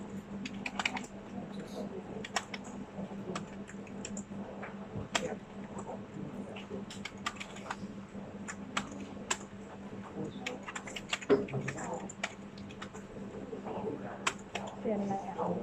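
Rapid clicking of fingers typing on a computer keyboard in a classroom, an irregular stream of light keystrokes continuing throughout at moderate level, with faint voices in the background.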